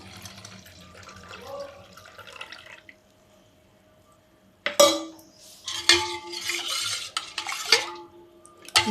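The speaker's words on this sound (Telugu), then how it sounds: "వాటర్ను ఇలా యాడ్ చేసుకోవాలి" Water added by hand to tamarind pulp in a kitchen bowl: a quiet stretch, then sharp bursts of pouring, sloshing and stirring with utensil clinks, fairly close and uneven in rhythm.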